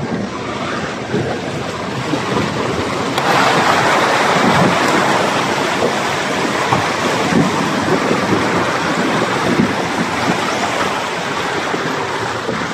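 Deep floodwater splashes and churns as a team wades through it, a loud, continuous rushing wash with wind buffeting the microphone, no voices.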